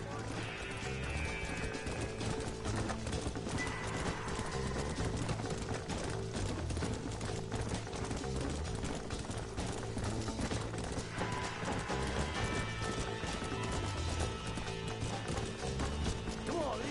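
Steady hoofbeats of galloping horses run throughout, layered under a dense, busy soundscape with music and occasional whinnies.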